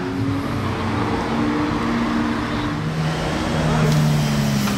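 A yellow sports car passes along a street in Monaco, a steady mid-level engine drone over busy traffic noise that swells slightly near the end.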